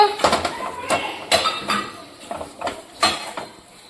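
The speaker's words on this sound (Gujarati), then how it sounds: "બટેટાનો માવો અને પછી એને કરવાનું છે મિક્સ" Spoon clinks and scrapes against a bowl while mashed potato is mixed, a string of close, uneven knocks and taps with no voice.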